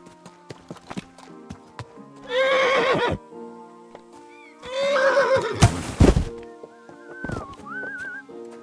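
A horse in the medieval game Kingdom Come Deliverance 2 gives two loud, close whinnies a few seconds apart, over soft hoof clops, a sharp thud and a faint whistled tune.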